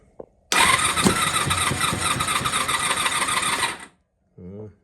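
Honda VFR400 NC30 motorcycle engine cranking on full choke with a little throttle, a loud, sustained, close starter whir lasting about three seconds before cutting off, followed by a brief voice.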